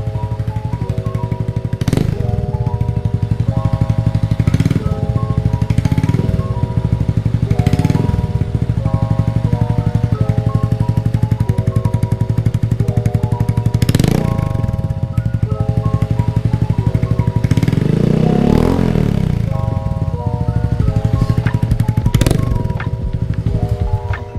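A loud Yamaha Mio i 125S scooter with an Akrapovic exhaust and its dB killer removed rumbles continuously, with repeated sharp throttle blips and revs rising and falling throughout.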